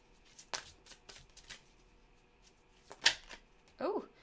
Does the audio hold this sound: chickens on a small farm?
no